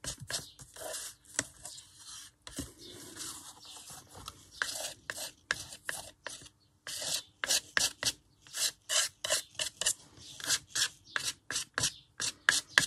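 Acrylic paint is scraped across a painted background in short, rasping strokes, close and fairly loud, with irregular bursts that speed into a quicker back-and-forth rhythm toward the end.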